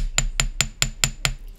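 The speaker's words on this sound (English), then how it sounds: "I corrected the curve when I started hammering more on this side" A hammer strikes metal wire being shaped into a bangle bracelet: six close, crisp taps land at an even, quick rhythm, then stop.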